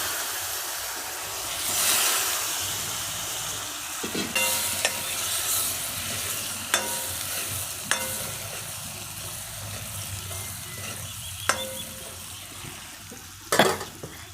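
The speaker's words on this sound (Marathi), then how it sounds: "आता हे तेलात चांगलं परतू द्यायचं" Curry leaves and drumstick pieces fry in hot oil for a drumstick vegetable dish, a steady crackling sizzle broken by several sharp spatula scrapes and knocks against the pan, with no voices.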